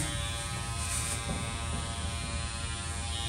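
Electric clippers buzz steadily in a close, continuous drone while shaving the pile of a tufted rug at a rug tufting class, with a constant motor hum and no talk.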